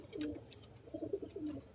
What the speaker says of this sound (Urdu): ان کے لیے علی والے کبوتر لے کے آئے استاد جی